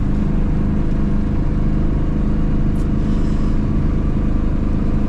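An Aixam City Eclipse limited-edition microcar drives along, its small engine droning loudly and steadily with road and cabin noise throughout, no one speaking.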